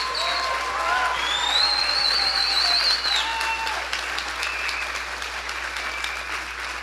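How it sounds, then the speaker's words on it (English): Audience applause at the Anarchapulco 2020 closing ceremony, a full crowd clapping steadily with scattered whistles and cheers rising above it, easing off gradually. "please give a round of applause for everybody who made Anarchapulco happen the last 6 years"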